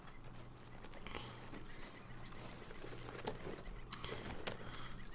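In Red Dead Redemption 2, a horse whinnies over soft hoofbeats and light jangling tack, fairly faint and set against a steady game background hum, with no talk over it.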